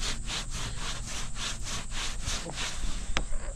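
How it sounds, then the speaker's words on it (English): Steady back-and-forth rubbing with a dry rag on a sanded, plastic-welded repair to a cracked whitewater kayak, rhythmic strokes about four or five per second, close up, ending with a sharp knock. "now I'm going to clean it up with a rag"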